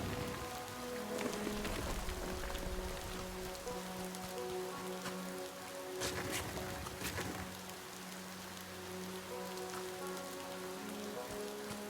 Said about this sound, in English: It's raining. Yeah, it's raining.